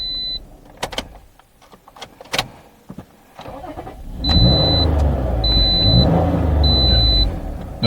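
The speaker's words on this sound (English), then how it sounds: "I'm going to try to crank it again" A Toyota RAV4 with a misfiring ignition coil cranks with a loud, steady starter whir and rough engine churn after several sharp clicks and knocks, while a high electronic warning chime beeps repeatedly over it.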